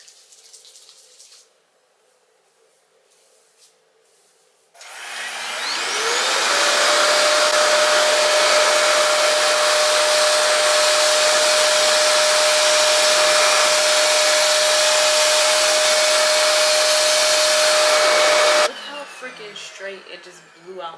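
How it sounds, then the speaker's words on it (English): Revair blow dryer drying hair during a silk press routine: a steady, loud whooshing blower with a constant whine runs for about fourteen seconds, then cuts off abruptly, with quiet handling sounds before and after. "after using this blow dryer, I was like, I could actually be a like blowout girl"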